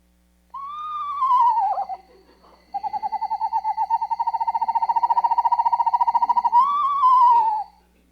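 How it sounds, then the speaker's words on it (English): Screech owl calling nearby, loud and alone against silence: a descending wavering whinny, then a long rapid trill held steady, and a final rising-falling whinny. "the screech owl, and that's a pretty distinct call"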